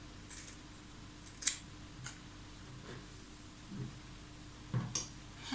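Several soft, separate snips of scissors cutting fabric, quiet and close, with pauses between the cuts.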